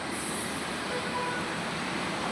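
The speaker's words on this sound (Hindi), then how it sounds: "बस मेट्रो आ जाए।" A metro train rumbles steadily at a station platform in Delhi, a continuous broad roar of rail noise with a faint high whine, loud and close throughout with no talk.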